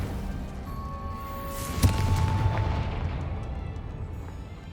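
Fire spell explosion in the Hogwarts Legacy video game, a single sharp boom that trails off into a low rumbling tail.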